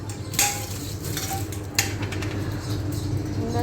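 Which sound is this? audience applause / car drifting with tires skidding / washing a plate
washing a plate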